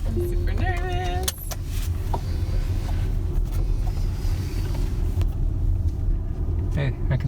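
Tesla Model X driving on a road, a steady low rumble of engine and road noise throughout, with a brief electronic chime near the start and faint voices.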